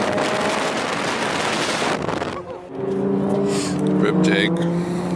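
Modified car in a close flyby, a loud, broad engine roar that swells and then fades as it passes, with voices following.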